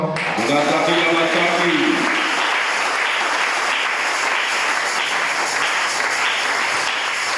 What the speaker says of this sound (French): J'ai besoin d'une acclamation.